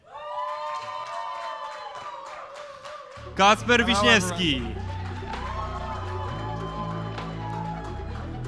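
A crowd at a global summit stage cheers and claps in a loud burst as a presenter announces names over music, the roar swelling briefly before settling back under the voice and backing track.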